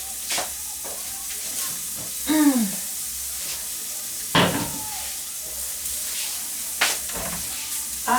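Onion sizzles and hisses steadily in a hot frying pan, a continuous close crackle with occasional louder spits and clatters, while a person speaks briefly over it.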